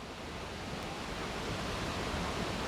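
Waterfall spray roaring, a dense, steady broadband rush of falling water that stays constant and loud, with no voices.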